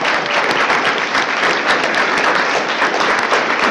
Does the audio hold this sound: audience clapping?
yes